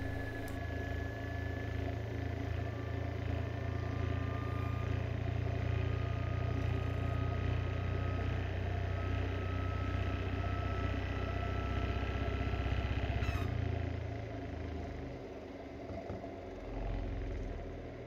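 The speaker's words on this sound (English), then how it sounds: "This motor is 3D printed and it's unbalanced, so it's making some noises." Unbalanced 3D-printed custom brushless DC motor spinning steadily with a continuous low hum and rattling whine, fairly quiet, with a brief change near the end as it winds down.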